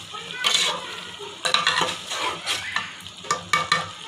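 Chicken karahi with fresh cream and crushed green chillies being stir-fried in a pan, with repeated loud scraping strokes of a spatula against the metal over a steady sizzle, in an irregular rhythm of bursts.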